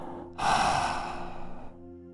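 A single long breath exhaled through the mouth, close and breathy, starting abruptly and fading out gradually over about a second and a half.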